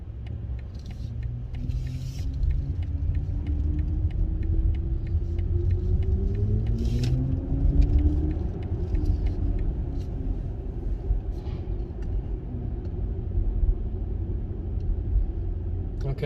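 A 2022 BMW iX xDrive50 electric car cruising in one-pedal mode, with a steady low road rumble and faint rising synthetic drive tones throughout, and occasional small ticks above it.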